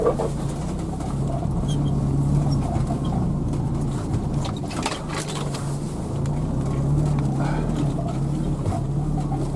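A car crawls along a rutted autumn dirt road with a steady low engine drone, rumbling and bumping over the ruts at close range, with no talking.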